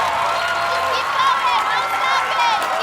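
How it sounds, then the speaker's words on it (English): A large arena crowd at the American Ninja Warrior national finals cheers and applauds steadily, a loud sustained roar of clapping and shouting with whistles, under excited commentary. "The crowd on its feet."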